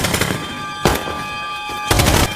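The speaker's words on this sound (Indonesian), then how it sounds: "Baku tembak pun terjadi" A gunfire exchange in a war film set among Japanese soldiers, with loud bursts of rapid shots and two sharper, heavier volleys over a dense, continuous rattle.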